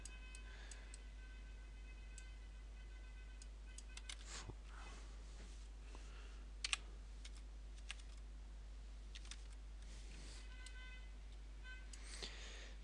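Key presses on a computer keyboard as numbers are entered, a sparse run of faint, quiet clicks and taps scattered over a steady low hum, with no talking.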